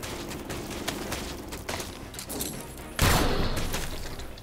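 Gunfire in the top-down shooter game Killsquad, auto-guided shots at marked enemies, dense rapid bursts with a louder blast partway through, close and continuous.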